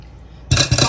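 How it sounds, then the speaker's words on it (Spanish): A spoon knocks and scrapes twice against a bowl while flour is stirred with baking powder, two close, loud bursts after a quiet start. "La voy a revolver con el polvo de hornear"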